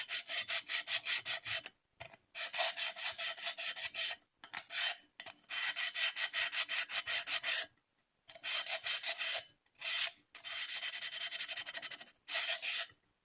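Folded sandpaper rubbing around the inside of a cup rim to clean off leftover epoxy, a steady rasping scratch in repeated strokes broken by short pauses, close and fairly loud with no talking.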